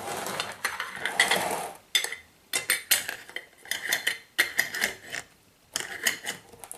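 Metal lids being screwed tight onto glass jars of apple compote, bursts of scraping, clicking and rattling in irregular short runs with brief gaps between, close and fairly loud, no talking.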